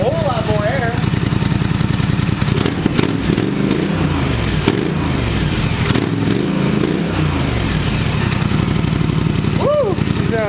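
A loud, rough straight-piped four-wheeler exhaust runs steadily throughout, with a rising rev in the middle and a voice briefly audible near the end.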